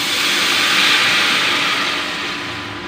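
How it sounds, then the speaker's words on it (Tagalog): Water pours steadily into a cooking pot for a soup of misua with patola and pork, a loud continuous rushing hiss close up with no voices. "Adyahin lang natin yung tubig."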